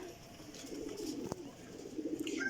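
Pet pigeons coo softly and continuously in a loft, a low, faint murmur with a single sharp click partway through.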